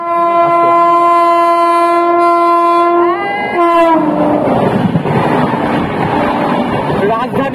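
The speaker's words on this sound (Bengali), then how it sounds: "রাজধানী এক্সপ্রেস।" A Rajdhani Express train passes with a loud, sustained multi-tone horn blast that drops in pitch, followed by a rushing roar of carriages close by.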